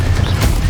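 Confringo fire spell in the Hogwarts Legacy video game, a short loud burst of crackling blasts over a heavy low rumble, packed into under a second.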